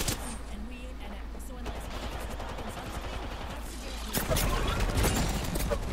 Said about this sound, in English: Our teammates getting shot at.